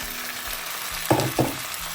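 Canned ackee hits a pan of frying corned pork and gets stirred in, a soft steady sizzle broken by two quick scraping stirs close up.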